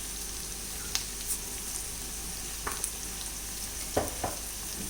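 Onions sautéing with salt in a pan for egg curry hiss softly and steadily, with a few light scrapes and taps from stirring scattered through.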